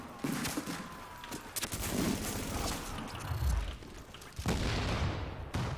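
In The Division video game, a high rate of fire weapon rattles off bursts of rapid gunfire mixed with booms and mechanical clatter, loud and close.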